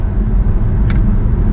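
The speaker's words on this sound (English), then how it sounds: "And this traffic is horrible." Heavy Dallas road traffic heard from inside a car makes a steady, loud low rumble throughout, with a brief faint high tick partway through and no talking.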